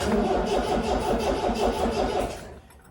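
A 1972 MGB engine that has sat for nine months cranks over with the choke pulled, a steady rhythmic churning that continues for about two and a half seconds before cutting off into near silence, with a sharp click at the end.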